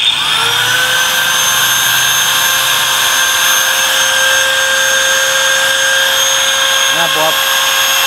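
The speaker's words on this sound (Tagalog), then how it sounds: "papakita ko sa inyo yung grinder" A handheld angle grinder powered by a portable power station spins up and runs steadily at high pitch, loud and close, with a brief voice near the end.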